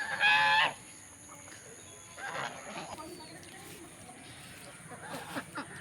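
Domestic ducks in a village clamour loudly in a short burst of harsh honking calls at the start, then fade to faint scattered quacks and rustling at a distance.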